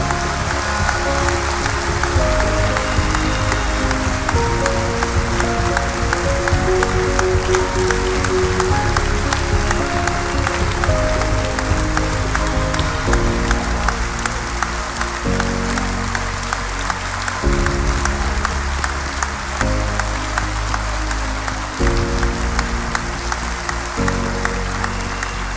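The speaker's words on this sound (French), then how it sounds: "je vous demande de les applaudir aussi fort que vous pouvez" An audience at a speech at the Félix Houphouët-Boigny Foundation claps loudly and at length while steady tonal music plays strongly underneath throughout, partly masking the applause.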